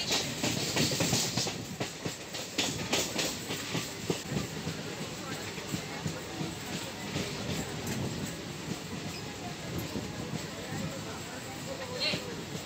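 A local train on the Tarakeswar–Goghat line pulls into Arambagh station, wheels clattering in a rhythmic clickety-clack with rumbling carriages, heard from inside the coach amid faint background chatter.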